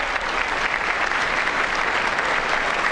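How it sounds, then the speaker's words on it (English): An audience at a Trump speech applauds loudly and steadily, with dense, sustained clapping from a large crowd filling the whole stretch. "Were they given a pep talk before this happened to just stand and clap after every 10 words?"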